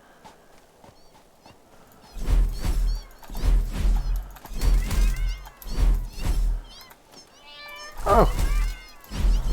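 A cat meows several times in a row, close and fairly loud, one call rising into a longer wail, while someone talks and exclaims over it against a low background hum.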